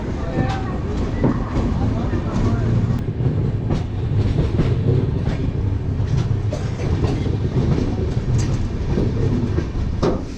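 The Tamil Nadu Express runs on Indian Railways tracks near Nagpur station, with loud, continuous rumble and rolling wheel noise and repeated clickety-clack of wheels over rail joints.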